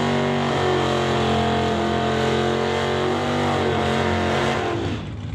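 Two drag race cars, a full-clip Malibu against a 1969 Acadia in the non-electronics class at a Doorwarz elimination day, roar loud and close in a sustained high-revving blast with dense engine harmonics, fading slightly at the end.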